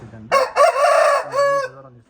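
An Aseel rooster crows once up close, a loud, hoarse, drawn-out call in several segments that trails off at the end.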